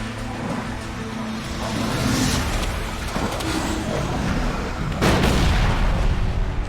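Wrathful grenade launcher in the game Elex 2 firing grenades, several heavy booming blasts with a sharp, loud explosion near the end, over a rumbling background.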